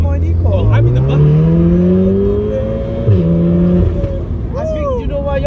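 Modified stage 2 VW Golf R pulling hard from inside the cabin, its engine note climbing through the revs, dropping at a shift, then climbing again, with crackling exhaust pops and passengers talking over it.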